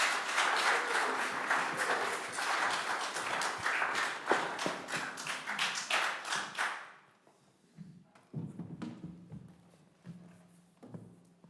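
A live audience claps warmly to welcome the Hot Club of Tucson at the Arizona Senior Academy, a dense, steady wash of applause that ends abruptly partway through, leaving a few scattered claps and faint room noise.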